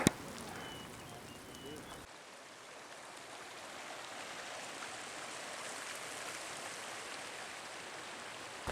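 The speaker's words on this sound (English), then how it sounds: "Somehow it's still raining" Rain falls in a steady, soft hiss in the Colorado Rockies, with a brief louder rustling at the start before settling into an even patter.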